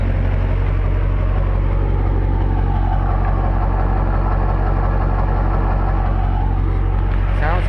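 A high-mileage truck with about 400,000 miles and a still-cold motor idles at its exhaust, a steady deep rumble with even low pulsing throughout, close and alone.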